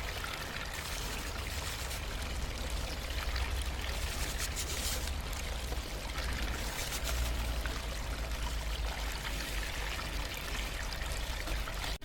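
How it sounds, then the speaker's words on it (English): Water pours steadily through a Gold Cube gold concentrator processing ore, a continuous even rush and trickle with no pauses, fairly loud and close, with no voices. "Operating the gold cube."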